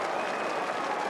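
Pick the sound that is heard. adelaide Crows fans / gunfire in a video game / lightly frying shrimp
adelaide Crows fans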